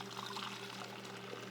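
Celery juice is poured through a small funnel into a container, a soft continuous liquid trickle and splash, quiet and close, with no talk.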